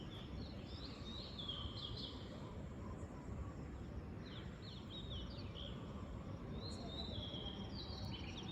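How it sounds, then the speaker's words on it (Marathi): Faint birds chirp and trill in short bursts at a distance at dawn, over a steady low rumble of background noise, at a bus station. "कदाचित तुम्हाला आवाज येत असेल पक्ष्यांचा"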